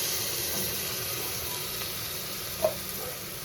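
Ground tomato paste sizzles steadily as it sautés in hot oil for tomato rice, a loud close hiss that keeps on without a break, with one brief clink from a utensil and no voices.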